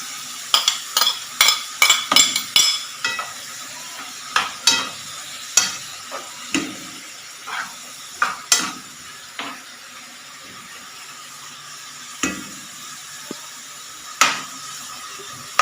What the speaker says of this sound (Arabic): بشوح الكبده بالبصل